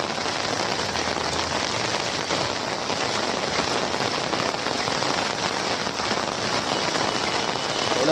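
Heavy monsoon downpour in Kalyan drumming steadily on an umbrella held close overhead, a dense, continuous patter with no pauses and no voices.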